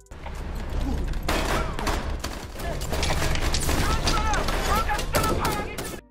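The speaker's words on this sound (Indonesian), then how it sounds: "Jadi sudah pasti baku tembak tak dapat terhindarkan" Film gunfight with dense, continuous gunfire: rapid automatic bursts and overlapping shots over a heavy low rumble, loud and unbroken throughout, with what sounds like shouting mixed in.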